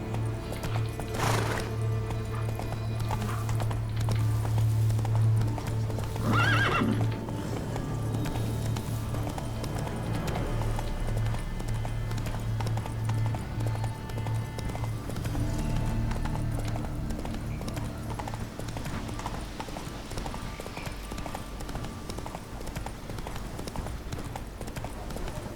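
Roach, the horse in The Witcher 3: Wild Hunt – Blood and Wine, gallops with a steady rhythmic clip-clop of hooves and a brief whinny early on, under game music and ambience.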